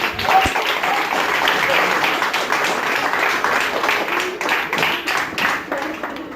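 Sustained applause from an audience at a campsite show, dense and steady clapping with some cheering voices mixed in, fairly loud throughout.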